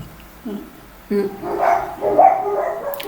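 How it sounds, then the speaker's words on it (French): Companion dogs bark and yelp in short bursts at close range, with a few louder barks building over a few seconds and some voices mixed in. "Vous allez entendre sur la vidéo nos compagnons chiens qui font leur boulot."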